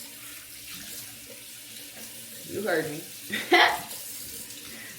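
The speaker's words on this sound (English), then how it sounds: "Waiting for this water to get hot." Tap water running steadily into a sink while waiting for it to heat up, a continuous hiss with a couple of louder splashes near the end; someone speaks briefly over it.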